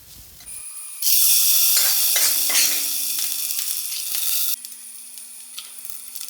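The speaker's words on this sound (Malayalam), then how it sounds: "പിന്നെ നമുക്ക് വറ്റൽ മുളക്, ഇനി കുറച്ച് തേങ്ങ ചെറിയത് അതുകൂടി ചേർത്തിട്ടാണ് നമ്മൾ വറവിടുന്നത്" Dried red chillies and small pieces of coconut hit hot oil for a Kerala erissery tempering, bursting into a loud, steady sizzle. The sizzle holds for several seconds, then drops to a quieter hiss, with no voices.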